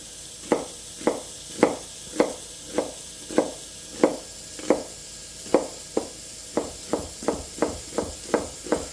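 A sharp knife chops vegetables on a cutting board with steady, evenly spaced thunks, about sixteen crisp strikes that quicken toward the end, close up over a faint background hiss from the stovetop.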